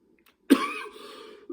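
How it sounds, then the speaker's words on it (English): A single sharp cough up close, followed by a brief raspy trailing breath and a small second catch at the end. "Coughing happens."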